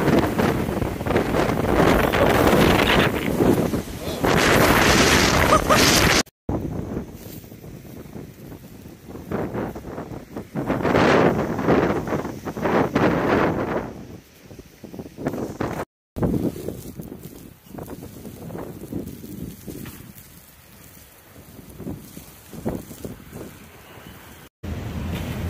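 Strong blizzard wind with snow in Bar Harbor, Maine, roaring and buffeting the microphone in loud continuous gusts, with a few abrupt dropouts.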